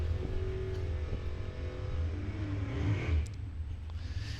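Rear-engine Bad Dog Racing dragster at a drag strip just after its burnout, a steady loud low engine rumble throughout with a slight surge near the end.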